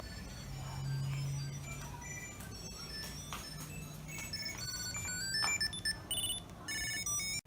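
A Tile Bluetooth tracker tag plays a bright, rising series of beeping tones that builds and repeats, with a voice briefly present underneath.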